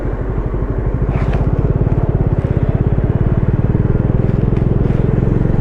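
A motorbike cruises along a smooth highway on a long road trip from Delhi, its engine thrumming in a steady, rapid pulse with wind rush, loud and close throughout.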